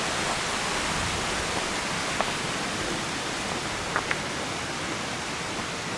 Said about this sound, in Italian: Stiamo andando a vedere la cascata di Masera.